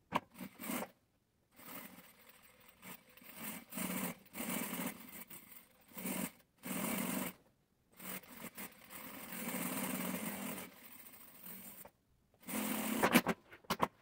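A sewing machine stitches around the marked outline of a fabric pouch, running in several bursts of steady whirring that stop and restart with short silent gaps, close and fairly loud.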